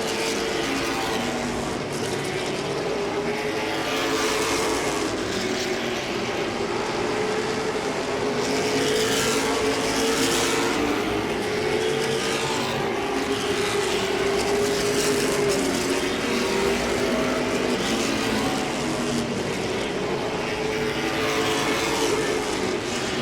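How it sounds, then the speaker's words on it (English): A pack of late model stock cars races at Langley Speedway, a loud sustained engine roar with a droning pitch that rises and falls as the cars pass, with no voices. "here they are racing hard for that 5th position"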